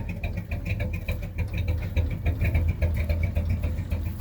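An overheated truck engine idles roughly nearby, a loud low rumble with an uneven, pulsing beat and a faint ticking above it, and no talk.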